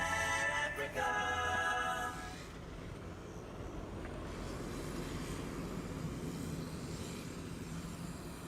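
Air Arabia Morocco Airbus A320 departing Amsterdam Schiphol runway 24, heard as a broad steady engine roar at moderate distance after a brief louder burst of nearby noise at the start.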